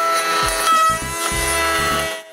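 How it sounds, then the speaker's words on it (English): A router table cuts the male part of a sliding dovetail in wood, a loud, steady high-pitched whine with low chattering and thumps as the workpiece is fed through, winding down at the end. "Now, I must do the male part of the sliding dovetail. I make several small passes on the router table"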